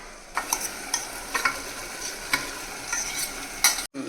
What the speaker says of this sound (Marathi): आता खालो सगळं मिक्स कर